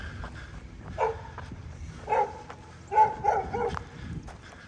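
A dog barks a few times at a distance on a quiet historic street in Harriman, Tennessee, in short separate bursts with low outdoor hum between them.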